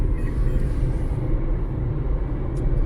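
A Dacia Spring electric car speeds up on a road: a steady, dense low rumble of tyre and road noise runs unbroken from start to end, with no voices.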